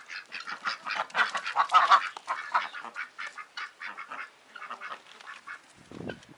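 Geese and ducks around a pool give a loud, close chorus of overlapping quacks and honks, busy at first and thinning into scattered calls, ending with a low splash-like thump.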